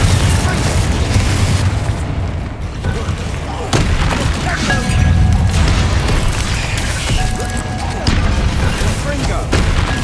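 Confringo fire-blast spells in Hogwarts Legacy combat, a run of booming explosive bursts and impacts amid busy game effects, with a voice talking throughout.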